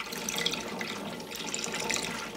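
Water churns in a vortex spun by an octagon spin bar on a magnetic stirrer at about one-third power, giving a steady close swishing and gurgling rush with no talk.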